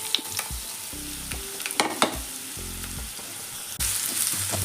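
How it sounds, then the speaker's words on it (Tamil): Chopped large onions sizzle steadily in hot oil in a kadai, with spoon scrapes and clinks throughout and a louder, fuller burst of frying near the end; no voices. "இப்போ நம்ம கட் பண்ணி வச்சுருந்த 2 பெரிய வெங்காயத்தை ஆட் பண்ணிக்கலாம்."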